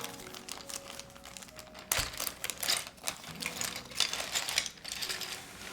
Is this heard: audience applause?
no